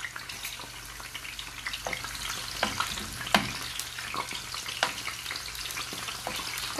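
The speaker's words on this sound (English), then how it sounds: "The oil is hot, and now I'm adding some onion peel." Onion peel frying in hot oil, a steady close crackling sizzle with scattered sharper pops and spits throughout.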